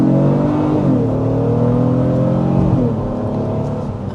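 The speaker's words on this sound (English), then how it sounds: "All right, got that V6 grunt, and let's put it to the test." A 2026 Honda Pilot Elite's V6 engine accelerates under load, a steady loud drone whose pitch climbs, drops briefly at a gear change and climbs again, with no talking over it.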